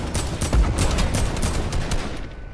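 Rapid automatic gunfire in a shooter video game, a dense loud burst of rattling shots lasting a couple of seconds before thinning out, with no speech over it.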